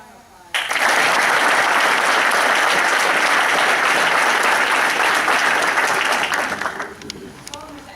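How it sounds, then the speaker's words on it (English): A crowd bursts into loud, dense applause at an Army 16th Ordnance Battalion graduation ceremony, starting abruptly, holding strong for about six seconds, then tapering off. "How about a round of applause?"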